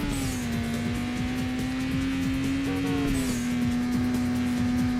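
Racing cars in the Burnout 2: Point of Impact video game roar steadily with a sustained high engine whine, shifting pitch around gear changes, over continuous game noise.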